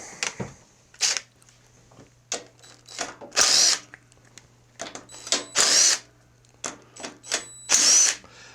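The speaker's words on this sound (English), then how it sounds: "Let's get our little impact gun, 3/8 socket." A small impact gun with a 3/8 socket worked on a Craftsman riding mower with a plow, giving several short whirring bursts of varying length close by, separated by quiet gaps and a low background hum.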